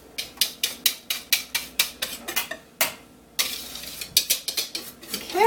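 Applesauce cake batter being scraped into a small disposable tin, with rapid rhythmic scraping and tapping strokes close up, a short pause, then more quick scrapes.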